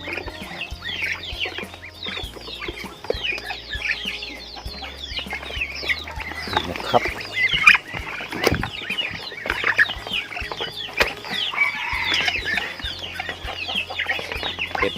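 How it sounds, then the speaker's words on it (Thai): Two-and-a-half-month-old Muscovy ducks on a farm crowd noisily at feeding time, a dense continuous chatter of quacks and hisses with occasional wing flaps and nearby clatter. "จะมาให้อาหารเป็ดลาบารี่นะครับ อายุประมาณ 2 เดือนครึ่งนะครับ"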